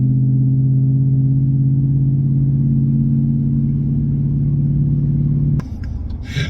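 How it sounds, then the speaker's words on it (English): 2004 Dodge Ram 2500 with a 5.7 Hemi and a straight-piped exhaust idling loud and close, a deep steady rumble that holds for several seconds before cutting to a rougher, shifting sound at the end. "Oh my God, I done straight piped my Dodge Ram."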